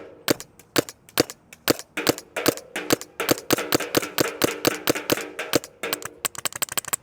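A Planet Eclipse EMF 200 paintball marker fires repeatedly at a can, producing a rapid series of sharp, close pops in an uneven rhythm, with no talking.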